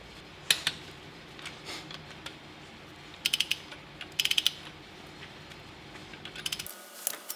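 Ratchet clicking while tightening the bolts on a drift car's rear differential, with several short, sharp bursts of rapid clicks separated by pauses, close and clear over a quiet background.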